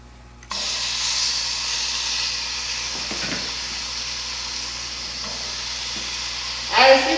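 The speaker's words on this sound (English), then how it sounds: "throw a pan on here, throw some bacon on, and get to frying" Bacon hits a hot pan on a Kitchen Queen wood cook stove and sizzles, a sudden onset followed by a steady close hiss that holds throughout, with a brief clatter near the end.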